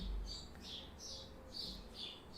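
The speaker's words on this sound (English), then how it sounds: "Someone is very happy to hear the birds in the background." Repeated high bird chirps and tweets in a short rhythmic series, faint and in the background of a quiet indoor room during a live drawing session.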